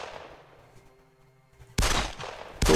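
Gunfire in the video game 13 Days in Hell: after a faint fading shot, two loud, dense bursts of shooting crack out close by, the second cut short.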